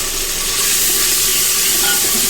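Tomatoes with ginger-garlic paste frying in a pan for an aloo pakora curry, a continuous close, loud hiss and sizzle with no talking.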